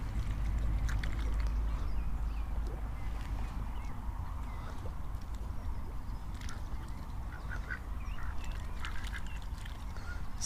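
Ducks on a small, shallow pond quack in scattered bursts over constant watery splashing and paddling, fairly close and busy throughout, with no voices.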